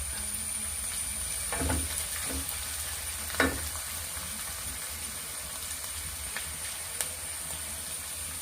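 Curry leaves dropped into hot oil for a lemon pickle, a soft steady sizzle with a few brief bursts of crackling spatter, faint and close with no voices.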